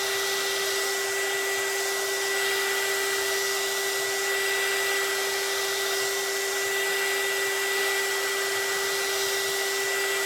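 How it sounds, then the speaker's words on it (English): An embossing heat gun drying alcohol ink roses gives a steady, loud, even whir with a high electric whine, running without a break and with no talk. "it's because I like the definition in the rings that I get when I use the embossing gun."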